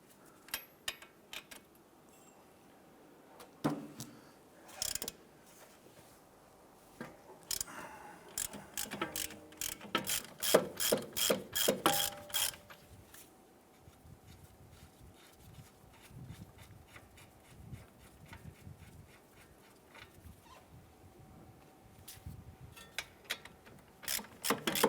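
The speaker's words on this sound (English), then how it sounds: "We use our 22mm socket. Let's go ahead and loosen these nuts." A ratchet with a 22mm socket loosens the strut nuts on a 2012-2017 Toyota Camry during wheel hub replacement, producing close runs of rapid clicking broken by clunks and metallic scraping, with quieter stretches between.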